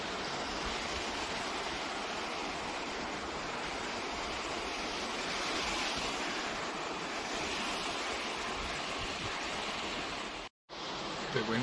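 Strong wind blasts across the microphone on an open hillside during a bow hunt for goats, a dense, continuous roar that swells slightly and cuts out briefly near the end.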